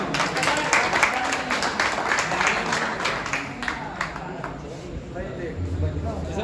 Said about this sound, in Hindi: ताली बजाए भाई ताली बजाए